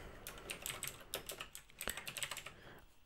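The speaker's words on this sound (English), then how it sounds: "I do like the sound and the feel of mechanical keyboards." Fingers type on a mechanical keyboard, producing a quick, irregular run of crisp, close clicks and clacks, with one sharper keystroke standing out midway.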